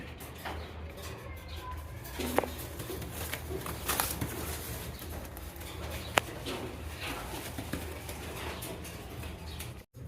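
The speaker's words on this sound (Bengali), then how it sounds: "এখানে কিন্তু আরও এক জোড়া কবুতর দেখতে পাচ্ছেন" Pigeons coo softly and repeatedly at a pigeon seller's in Bangladesh, beneath a dense, rustling background hum, with occasional faint knocks.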